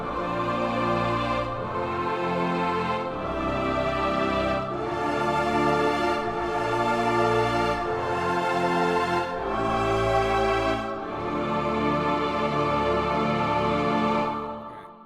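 A Hollywood-style progression of eight sustained chords, played as a lush, swelling orchestral or keyboard texture with each chord held about two seconds, steady and moderately loud, no voices.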